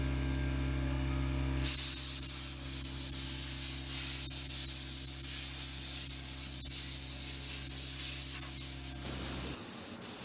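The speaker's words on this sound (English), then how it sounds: "I spray on the pre-catalyzed lacquer top coat." A spray gun hisses continuously for several seconds, spraying pre-catalyzed lacquer top coat on a vintage magazine table, a loud, even burst of atomized spray over a low mechanical hum, then cuts off.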